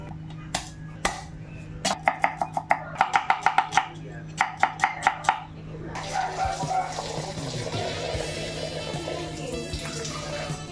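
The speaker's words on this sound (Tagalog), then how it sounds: "Chop na tayo ng aromatics mga idolo. So, ayan, bawang sibuyas lang to mga lord." Garlic and onion are chopped on a cutting board for Bicolano sinantol, sharp knife strikes landing in quick rhythmic bursts, then giving way to running water and soft kitchen clatter.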